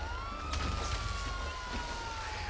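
A police car siren wails in a video game, a sustained tone slowly sliding over a rumbling vehicle engine, with a couple of sharp knocks mixed in.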